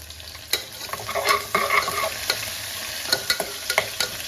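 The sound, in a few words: frying green chilies with browned onions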